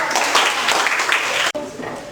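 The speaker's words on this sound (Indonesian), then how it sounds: "Iya, tepuk tangan" Classroom applause as children clap for a student's answer in a Bible lesson, a dense burst of hand claps that stops abruptly, followed by quieter room noise.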